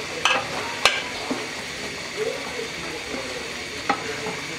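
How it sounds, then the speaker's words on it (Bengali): Pigeon and meat rezala frying in a pan as onion paste and garam masala are stirred in, a steady close sizzle with a few sharp utensil taps against the pan, no voices. "এখন আমি এর মধ্যে পেঁয়াজ বেস্তা বাটা দিয়ে দেব, গরম মশলা গুঁড়ো দিয়ে দেব,"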